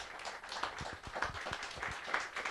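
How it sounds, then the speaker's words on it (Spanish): A church congregation claps hands during a Spanish-language sermon, a lively, moderately loud patter of many hands with some rhythmic sharper claps, no speech over it. "Dale palmas al Señor."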